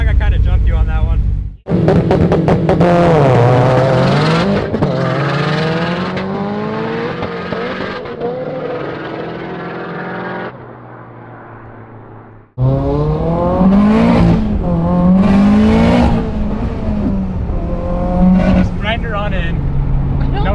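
A built Subaru STI with a worn transmission accelerates hard in a drag race, giving loud, close engine pulls with repeated gear changes and a brief cut to quieter running midway.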